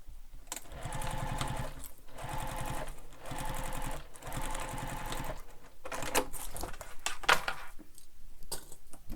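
A sewing machine stitching a backpack seam over earlier stitches, running in steady bursts of rapid mechanical clatter with brief stops between runs, close and loud.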